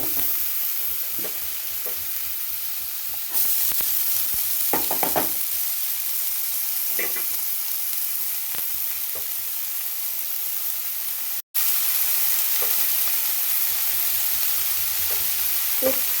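Chopped home-garden vegetables with chili powder sizzle loudly in a pan, with a constant frying hiss and a series of scraping stirs of the spatula throughout.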